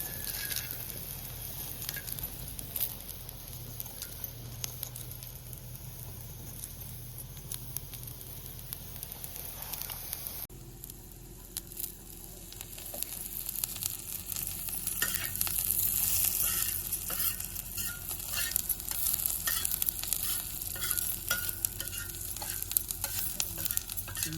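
Onion and cold masala frying in oil over a village wood-fired stove, a continuous close sizzle with repeated stirring scrapes that grows louder and brighter after the masala goes in.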